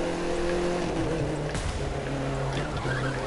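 A race car engine and exhaust rev in The Crew 2 video game, a steady loud drone with a brief tyre squeal or skid partway through, and no voices.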